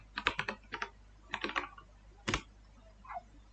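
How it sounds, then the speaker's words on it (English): Quick bursts of keystrokes on a computer keyboard as a password is entered, tapped out in short clusters separated by pauses, close and clear with no talking. "Then type the password."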